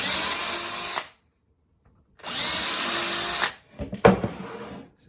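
Power drill widening pilot holes in a wooden guitar mould, two sustained whirring runs with a silent pause between, then a few short stuttering bursts, loud and close.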